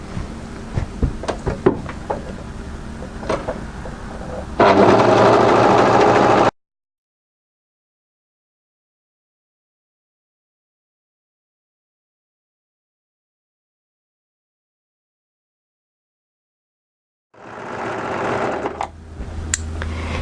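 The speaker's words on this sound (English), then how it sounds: "run around the entire outside edge of the garment with your overlocker" An overlocker stitches around the edge of a light fabric sleeveless cardigan, a rapid buzzing run that starts after a few clicks, stops abruptly, then resumes after a long silence.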